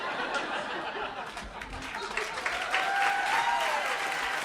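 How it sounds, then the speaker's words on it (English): Applause from a storytelling audience at The Moth in Detroit, steady sustained clapping throughout with light chatter and laughter mixed in. "Give Eddie a big round of applause"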